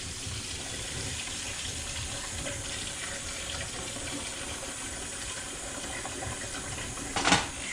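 Kitchen tap running steadily while Swedish pancakes are being made, a constant rushing stream of water close by with a brief louder splash near the end, no talk.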